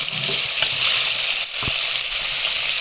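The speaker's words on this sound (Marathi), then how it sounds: "काजू लालसर असं झालेलं आहे परतून घेणार तेलामध्ये" Cashews frying in hot oil give a steady, close broadband sizzle that keeps going with no break, with brief stirring clatters but no voices.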